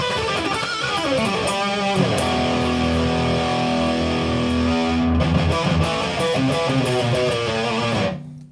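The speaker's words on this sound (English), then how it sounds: "What you just heard was my Fender Mustang amp." A loud, distorted electric guitar through a Fender Mustang modeling amp chugs through heavy riffs and sustained chords, dense and driving with no voices.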